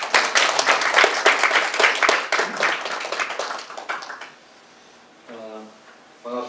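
An audience at an academic conference on intellectual property strategy applauds loudly and steadily for about four seconds, then the clapping fades and a voice begins speaking.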